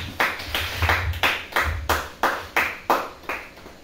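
Rhythmic hand clapping at a church service, about ten sharp, evenly spaced claps in a steady beat, fairly close and loud, without talk.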